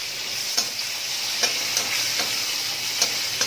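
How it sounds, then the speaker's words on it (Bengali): Chopped onion frying in oil with bay leaf and cumin, in a pan where shrimp were fried before jackfruit and prawn curry: steady close sizzle with light spatula clicks and stirs at intervals. "পেঁয়াজটা একটু প্রথমে একটু হালকা করে একটু ভেজে নিচ্ছি"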